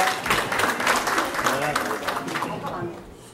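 Church congregation applauding in thanks for the choir, a moderate, fairly dense clapping that fades toward the end, with speech in the room around it.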